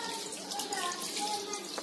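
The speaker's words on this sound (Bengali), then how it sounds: "ফ্রাই প্যানে দিয়ে দিচ্ছি এবং এতে একটু পানি দিয়ে দিচ্ছি" Water is poured into a frying pan while making a Portuguese molotof dessert: a steady, close pouring and splashing stream that lasts about two seconds with no pause.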